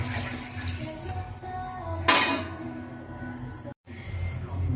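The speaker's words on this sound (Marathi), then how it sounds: "त्यामध्ये आता मी हे पाणी ओतते" Water is poured into a pot over a hot tempering seasoned with asafoetida, a splashing, hissing gush that bursts loudly midway, breaks off briefly, then resumes against a steady background hum.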